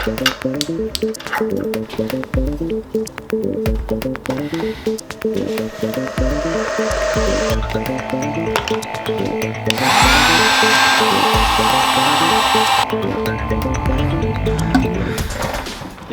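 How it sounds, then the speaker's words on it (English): A heat gun blows steadily on the fuel lines of a classic Honda motorcycle to loosen them from the petcock, a continuous close airy roar with shifting tone and some handling noises throughout. "using the heat gun on those fuel lines makes that so much easier to pull off the petcock"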